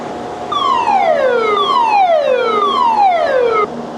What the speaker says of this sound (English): you heard the siren. They're about to let a bunch more water out.